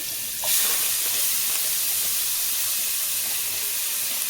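Onions frying in the same oil left from frying for a brinjal and dried fish curry, giving a steady, bright hiss with a brief louder burst near the start and no voices.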